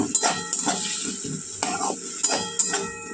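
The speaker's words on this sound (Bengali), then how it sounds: "ভালো করে কষিয়ে নেব।" Potatoes and aubergine with coriander, turmeric and chilli powder and a little water are stirred in a pan, a spatula scraping and clinking against the metal in irregular strokes over a soft sizzle, close and without speech.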